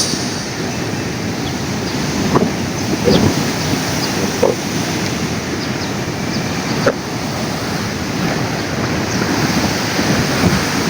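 Strong, rough sea surf pounding a shore in stormy weather, with a continuous loud wash of breaking waves and gusty wind buffeting the microphone, no voices.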